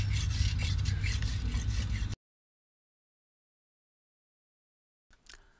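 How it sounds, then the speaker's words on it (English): Radius rasp filing a horse hoof, giving a few seconds of steady, close scraping strokes that stop abruptly, then a short faint rub near the end. "The support of a hoof cradle also makes your rasping more effective"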